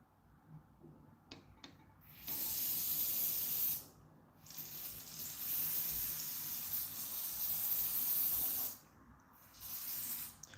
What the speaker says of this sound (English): I'm gonna spray it with some WD-40 stuff.